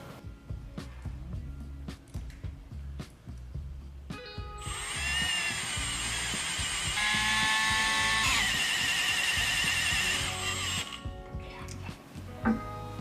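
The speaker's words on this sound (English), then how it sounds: "go ahead and install them with the thread forming screws" A power drill drives thread-forming screws, dipped in anti-seize, into the bed extrusions of a Jeep Gladiator. A steady, loud whining run lasts about six seconds, with quieter shop noise before and after.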